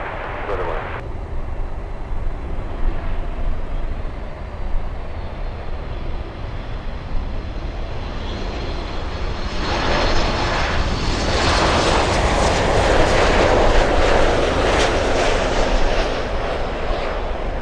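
A heavy jet landing at Miami International Airport in stormy, windy weather, its engine roar growing louder and broader as it passes close, with voices talking over the early part.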